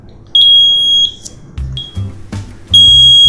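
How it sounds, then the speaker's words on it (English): An Arduino-driven electronic buzzer beeps shrilly in on-off bursts of about a second each, loud and close, with faint clicks and thumps between beeps. "the buzzer is beeping for 1 second, then it's not beeping again it's beeping for 1 second"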